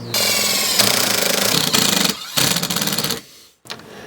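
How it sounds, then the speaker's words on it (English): A power driver sinks self-tapping screws through pre-drilled holes in a bed-lift frame inside a luxury van build, giving loud, close, rattling bursts separated by short gaps. "you drive self-tapping screws through these pre-drilled holes"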